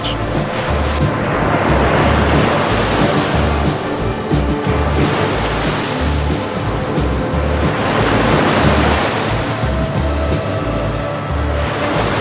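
Ocean waves surging and breaking in a loud, continuous wash with rhythmic rising swells and a deep rumbling low end, mixed with wind, no voices.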